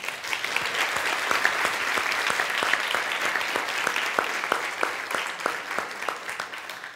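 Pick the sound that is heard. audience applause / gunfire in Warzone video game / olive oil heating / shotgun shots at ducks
audience applause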